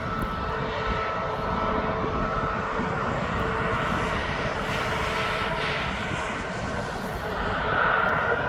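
A fixed-wing aircraft turning onto the runway at East Midlands Airport gives a steady, loud engine roar that holds without a break and swells slightly near the end.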